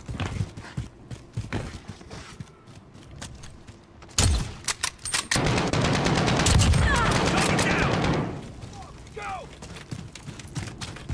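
Gunfire in a Call of Duty video game: scattered single shots, then a sudden dense burst of rapid firing that rattles on for several seconds before fading to sparse sounds, loud and close.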